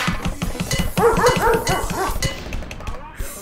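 Several dogs bark and yelp in the video game Gopnik Doom, a dense cluster of sharp, close barks over busy game sounds with a voice talking underneath.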